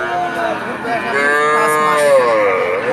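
A Friesian heifer calf, about five months old, moos repeatedly at a busy village cattle market, its long drawn-out calls loud and close, with no talk over them.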